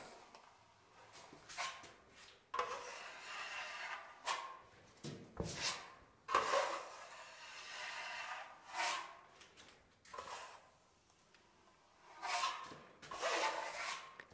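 Steady rasping scrape of a traditional steel trowel spreading plaster render across a wall, repeated close strokes with brief pauses between passes, fairly quiet.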